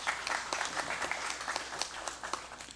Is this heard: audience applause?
yes